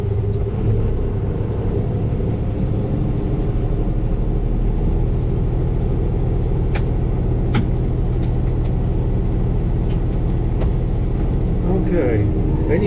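A tractor running a brush hog mower over wet ground overgrown with tall lamb's quarter, engine loud and steady with a constant low rumble close by throughout, and no talk over it.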